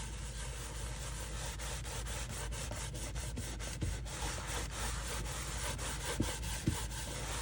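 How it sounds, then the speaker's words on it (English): A shop towel rubs finish onto a wood surface, making a steady, continuous scrubbing swish close by, with a few faint knocks partway through and no talking. "So I'm just going to grab a shop towel and start rubbing this on."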